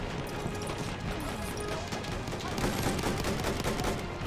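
Gunfire rattles continuously in a multiplayer shooter video game, dense overlapping shots and bursts forming a steady, noisy battle din with no pauses.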